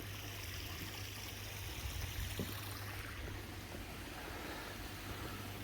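Water runs steadily into a koi quarantine tank during a water change, a quiet, continuous trickling flow with a low steady hum beneath it.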